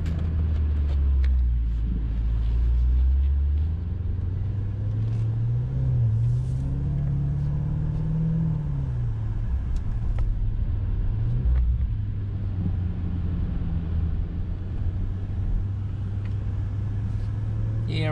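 Maserati Levante GTS, a 550 hp all-wheel-drive luxury SUV, rolling away from a dealership with a low steady engine rumble and a gentle rise in revs, heard from inside the cabin with faint background noise.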